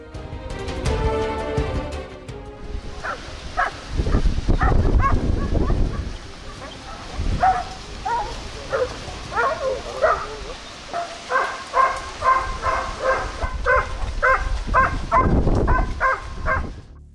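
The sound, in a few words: hunting dogs barking during wild boar hunt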